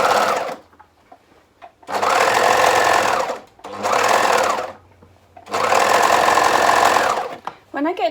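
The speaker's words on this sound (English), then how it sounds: "Now I'm going to sew that centre back and centre front seam" A sewing machine stitching the centre back seam of a garment, running in three loud sustained bursts of steady whirring with short quiet pauses between them.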